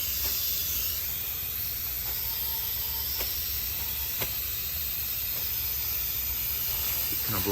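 Steady faint hiss of air escaping from an engine cylinder during a low-compression check on a 1975 Lincoln Continental, continuous and soft with a few faint clicks.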